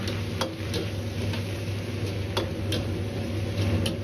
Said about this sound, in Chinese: 再次翻炒幾下後，把生抽炒出醬香味